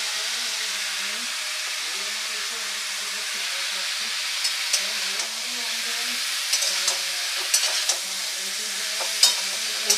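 Chalta and amra chutney with turmeric being sautéed in a pan, a steady soft frying hiss broken by scattered scrapes and taps of stirring.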